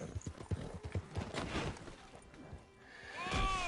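Horse hooves clip-clop in Red Dead Online, a rhythmic run of fairly close steps with a whinny near the end, over game ambience.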